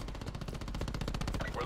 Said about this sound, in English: I'm pretty sure there's somebody shooting in the air over here